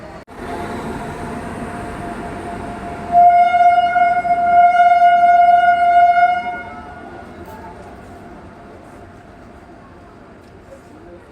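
An Indian Railways train hauled by a powerful East Central Railway locomotive gives a loud sustained rumble, and a long steady horn blast rings out for about three seconds before the noise fades and settles into a quieter drone.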